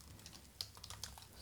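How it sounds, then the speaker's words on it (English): Close, quiet keystrokes on a computer keyboard as a Linux command is entered, a quick uneven run of light clicks. "So I'm gonna type here sudo"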